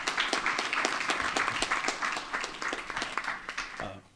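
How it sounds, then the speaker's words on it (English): An audience applauds at a panel event, a dense, steady patter of many hands clapping nearby that carries on for about four seconds before tapering off. "Please clap your hands for Mr. Charles."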